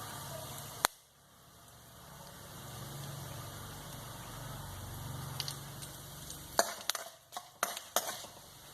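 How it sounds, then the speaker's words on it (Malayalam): Dried red chillies and curry leaves fry in a pan for Kerala-style pineapple thoran, a soft steady sizzle broken by a few sharp spoon taps and stirring clicks near the end. "വറ്റൽമുളക്, ഉണക്കമുളക് ഇട്ട് കൊടുക്കാം. കുറച്ച് കറിവേപ്പിലയും കൂടെ."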